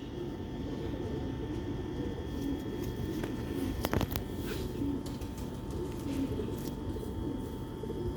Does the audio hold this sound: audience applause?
no